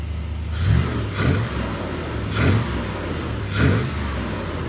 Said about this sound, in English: 327 engine under the hood.